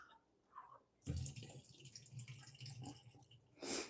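Running tap water rinses drained canned hearts of palm, a steady splashing stream that starts abruptly and keeps flowing, with brief louder gushes near the end.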